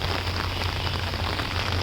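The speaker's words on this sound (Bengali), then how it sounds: "ট্রেনের লাইটের আলোয় বৃষ্টি পড়তেছে" Steady, dense hiss of heavy rain pouring down at night beside a railway line, continuous and fairly loud throughout with no pauses.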